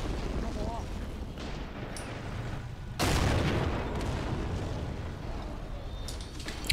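Gunfire and explosions from a World War tank-and-infantry battle game fill a 1v1 tournament match, with a dense, continuous roar of shots and a loud blast near the middle, while a commentator talks over the combat.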